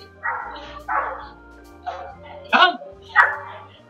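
A trained dog barks during distance-control obedience work, four or five separate short barks and yips spaced about a second apart, fairly close and clear against a quiet background.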